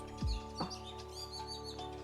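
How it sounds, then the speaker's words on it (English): A male blackbird gives a warning call to its mate: a few sharp chips near the start, then thinner high notes, fairly faint against a steady low hum. "Male blackbird warning its mate."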